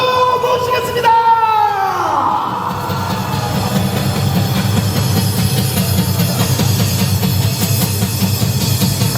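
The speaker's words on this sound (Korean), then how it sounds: "큰 박수로 모시겠습니다" A large outdoor crowd at a Gwanghwamun rally against the president's impeachment applauds and cheers in a dense, continuous roar, with scattered shouts and a brief voice early on.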